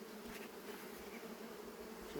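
A swarm of honeybees buzzing in a dense, steady drone, close and even, with no voices over it.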